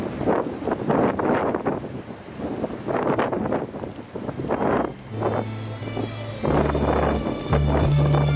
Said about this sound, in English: Crazy surf, crazy windy.